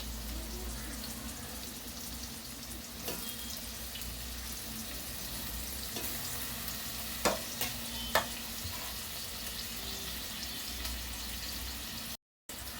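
Onions, curry leaves and green chillies fry quietly in about four spoons of oil, giving a low continuous sizzle broken by a few sharp clinks of a spoon against the pan, with no voices.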